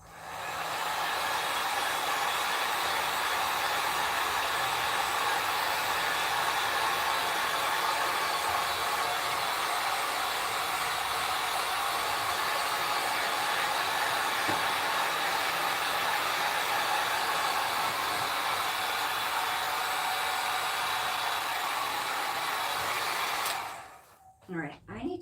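A hair dryer blowing steadily on a freshly painted homemade decor piece to dry the paint, a loud continuous airy roar lasting over twenty seconds before it switches off abruptly near the end.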